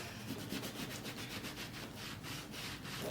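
Cream is rubbed back and forth along the seams of a leather Lady Dior bag, a close, faint, rhythmic scratchy swishing repeating about every quarter second.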